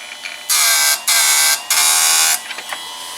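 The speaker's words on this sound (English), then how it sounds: "We're just sharpening it." A Harbor Freight chainsaw sharpener grinds a saw chain in three loud, high-pitched bursts of roughly half a second each, separated by short pauses, followed by faint clicks as the chain is moved.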